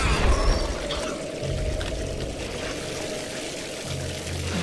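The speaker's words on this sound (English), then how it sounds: "Oh, gross, I'm getting sprayed with toilet water." Toilet water spraying in a video game, a continuous splashing, pouring hiss with a low rumbling drone beneath, steady and fairly loud without talking.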